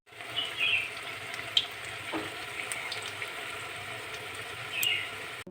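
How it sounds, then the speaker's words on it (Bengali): Koftas fry in hot oil with a soft, continuous sizzle and a few light clinks of a utensil, fairly quiet and with no talking. "কোপ্তাগুলো আমি এভাবে সব ভেজে দেবো"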